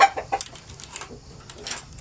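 Three-month-old Basilan native chickens cluck in a farmyard, with busy overlapping clucks and soft calls at close range over a low background rumble.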